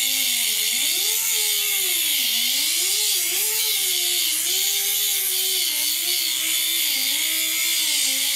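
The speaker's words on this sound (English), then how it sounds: "What I'm doing is just using the edge of the grinder like this." A grinder's edge trims and finesses a metal custom A/C dash vent with a continuous high, harsh whine whose pitch wavers as pressure shifts, loud and close throughout.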